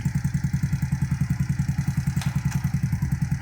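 A restored Honda Super Cub C50 motorcycle engine runs with a fast, even putter of regular pulses and light mechanical clatter, close up, as it is put through its gears.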